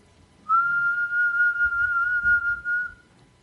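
A person whistles a single long, steady, clear tone imitating a pirate's signal whistle, held for roughly two and a half seconds, loud and close, with faint low background noise.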